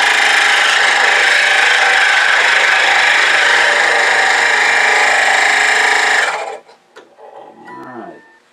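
A bandsaw with a coarse 3/8 inch, 3 tooth blade cuts a wooden Easter bunny turning blank on its scroll side, a loud steady high whine that stops abruptly, leaving faint scraping and handling noises.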